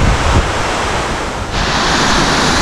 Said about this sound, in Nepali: मेरो पछाडि छ दामी झर्ना है